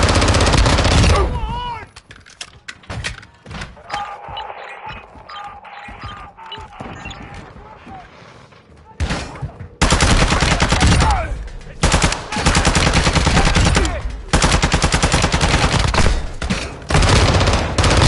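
Bursts of fake gunfire from a decoy grenade in the Call of Duty DMZ video game, loud dense rattling volleys in the opening second and again through the last eight seconds, with quieter game sounds between.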